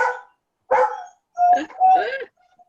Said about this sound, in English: She just barks